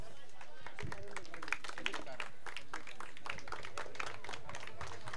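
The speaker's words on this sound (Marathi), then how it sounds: "ज्यांचा सत्कार होत आहे त्यांच्यासाठी टाळ्या वाजवा जरा" A crowd claps for players being honoured on stage at a felicitation event, with steady scattered applause running under continuous talking over a sound system.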